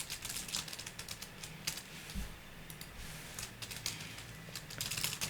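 Quick, light clicking of keys on a computer keyboard, bursts of typing heard close and fairly quiet with short pauses between them.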